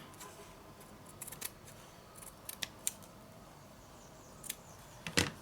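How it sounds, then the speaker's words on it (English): Scissors snip through fabric during a wax resist stitching project, a handful of short, crisp cuts scattered across a quiet room, ending in a louder final snip. "So I'm thinking of maybe, yeah, I'll cut it here."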